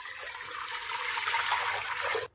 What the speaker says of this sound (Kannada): ಇದೇ ಕಪ್ಪಲ್ಲಿ 6 ಕಪ್ ನೀರು ಹಾಕ್ತದನಿ.